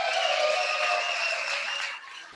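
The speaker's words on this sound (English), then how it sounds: "Let's give them a round of applause." An audience at a political rally applauds an anniversary couple, a brief dense wash of clapping that holds steady then fades after about two seconds.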